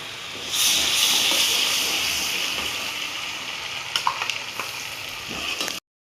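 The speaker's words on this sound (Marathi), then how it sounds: "आता ते लसूण अद्रक त्याचा कच्चा पण जायला पाहिजे म्हणून आपण सगळं चांगलं परतून घ्यायचं ते" Garlic-ginger paste and cumin sauté in a pan for Mumbai-style butter pav bhaji, making a continuous, fairly loud hissing sizzle with a few small scraping clicks toward the end.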